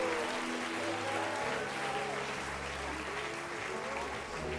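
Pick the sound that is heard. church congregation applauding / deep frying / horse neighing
church congregation applauding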